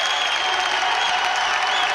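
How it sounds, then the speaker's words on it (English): A basketball crowd in a gym in Olathe cheers and applauds after a go-ahead dunk, a steady, loud wash of clapping and shouting that holds without a break. "And your crowd is on their feet"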